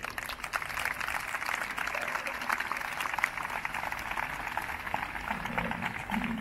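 A festival opening gala audience applauds, a dense, even wash of many hands clapping that holds steadily at moderate distance without pause.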